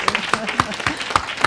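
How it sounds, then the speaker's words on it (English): A few scattered claps sound at an event honoring the first woman head of the UN Development Programme, sparse and uneven, mixed with murmuring voices. "Applause all around."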